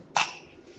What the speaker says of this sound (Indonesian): Nah, ini kok batuk juga.